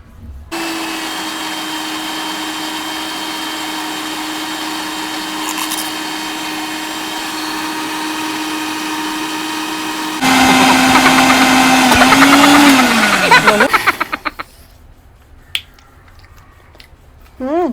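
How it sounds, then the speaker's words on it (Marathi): A kitchen mixer grinds mint paste for pani puri, a loud, steady motor drone that turns harsher for a few seconds, then slows and stops, leaving faint clicks and room sound. "आता मी पुदिनाचा पेस्ट काढून घेते."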